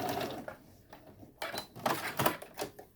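A sewing machine stitches a fabric face mask in short stop-start runs of rapid mechanical clatter, heard up close between brief pauses.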